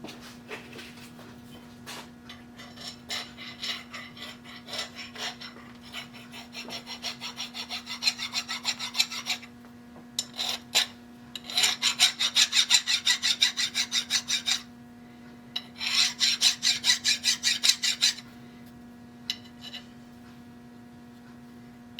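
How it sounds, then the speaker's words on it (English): Hand metal file rasping rolled burrs off the corners of a machined part for a model Stirling engine helicopter, bursts of rapid rhythmic strokes separated by pauses, close, over a steady background hum. "And just filing off the burrs that we rolled up on the corners here."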